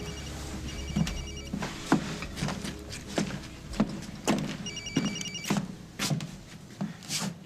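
A telephone rings in a quiet room, a series of short, repeated electronic trills in a steady rhythm, fairly close and clear, with faint knocks and movement between the rings.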